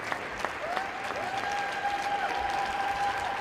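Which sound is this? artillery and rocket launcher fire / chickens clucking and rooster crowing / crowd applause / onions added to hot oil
crowd applause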